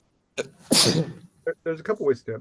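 One close, loud sneeze with a sharp hissing burst, after which a person starts talking.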